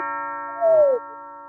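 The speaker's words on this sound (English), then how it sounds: "Oh, I hear a doorbell." A doorbell chimes once in a home, a single short gliding tone, clear and moderately loud over a steady electronic hum, with no talking.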